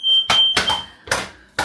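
A smoke alarm sounds a steady high electronic tone during induction cooking of toasted sandwiches in a Ridgemonkey pan, with loud close clatter and knocking breaking in over the beep.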